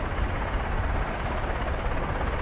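Military aircraft engines run up on the ground at an RAF air base, a steady, dense low roar that holds without letup throughout, loud and unbroken with no voices.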